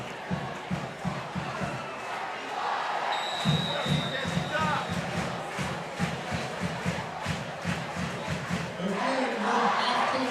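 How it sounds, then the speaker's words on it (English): Fired-up crowd at a 2019 high school football game between Canby and Lincoln, a steady roar of cheering and chanting with rhythmic stomping or clapping, loud and continuous throughout with a few sharp whistles above the din. "You know the crowd is fired up."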